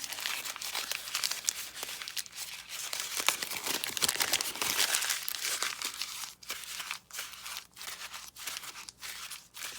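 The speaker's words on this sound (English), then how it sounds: "Let's give it a good crumple." A sheet of black craft paper is crumpled by hand for an envelope, with loud, close, continuous crinkling and crackling that comes in repeated squeezing bursts for about ten seconds.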